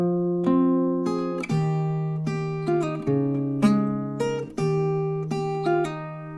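The melody of a song is plucked on an acoustic guitar at a slowed practice tempo. Clear single notes ring out one at a time in an even, unhurried rhythm, close and alone.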